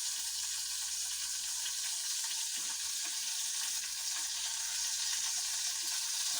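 Longganisa sausage frying in a pan, a steady close sizzle and crackle of hot oil with faint occasional stirring, continuous and even with no speech.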